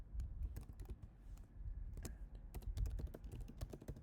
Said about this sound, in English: let me just type in some mock credentials